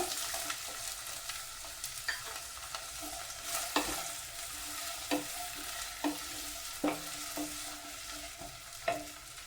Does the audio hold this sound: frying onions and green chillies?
yes